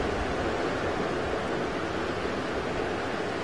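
A river rushing in a steady, dense wash of broadband roar, close and unbroken, sounding much like ocean surf without distinct waves.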